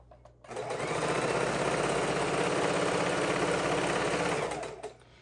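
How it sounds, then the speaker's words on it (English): A sewing machine stitching quilt patches runs steadily for several seconds with a fast, even mechanical whir, close by, then stops. "the sewing machine"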